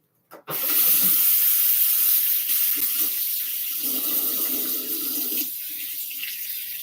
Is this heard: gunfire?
no